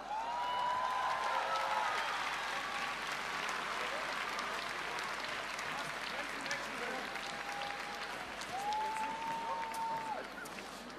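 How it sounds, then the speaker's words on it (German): Sustained audience applause and crowd noise greet a guest speaker at a refugee-support event, steady and fairly loud throughout, with scattered whistles rising above the clapping. "Begrüßen Sie Harald Krasnitzer"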